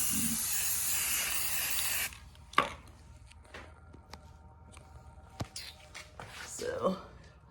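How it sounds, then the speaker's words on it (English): A loud, steady hiss of spray paint onto an acrylic knife for about two seconds, then it stops, followed by faint clicks and handling noises. "I'm just gonna spray one side, and if I like it, then I'll keep going"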